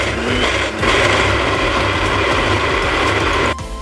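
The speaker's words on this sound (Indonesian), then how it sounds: "Lalu blender sampai halus." A blender grinds fried chilies, shallots and garlic with water, a loud continuous whirring and rattling close by that cuts off abruptly near the end.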